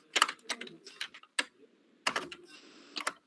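Computer keyboard being typed on during coding, short clusters of close, sharp key clicks separated by brief pauses.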